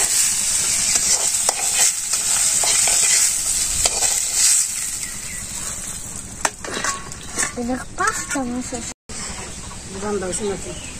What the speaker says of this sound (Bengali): তেলটা দিয়ে দিলাম, তেজপাতাটা দিলাম